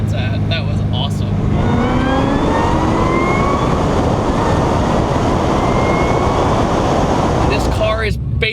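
A basically stock Corvette ZR1 accelerates hard in first gear, its engine revving loud and close with rising harmonic sweeps that climb steadily throughout, and the tires hook up as it pulls.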